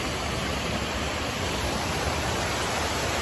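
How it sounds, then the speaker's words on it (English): A waterfall roars as a steady, dense wash of broadband rushing water, loud and unbroken throughout with no pauses or distinct splashes. "Oh, waterfall time."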